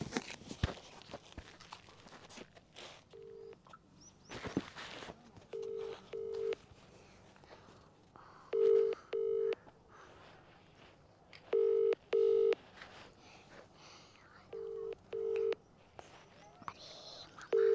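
A phone ringback tone repeats in short paired bursts at regular intervals, fairly faint, with light footsteps and background noise between rings, the call going unanswered.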